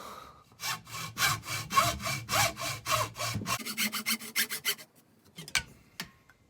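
A hand saw cuts through a homemade airsoft suppressor tube in steady, rapid back-and-forth strokes, close and loud, then slows to a few scattered scrapes before stopping.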